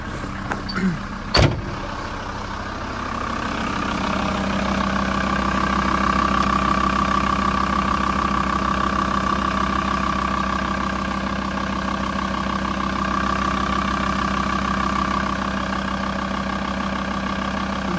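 A Volkswagen T4 2.5 TDI van engine idles steadily with a low, even diesel rumble, close by, after a couple of brief knocks at the start.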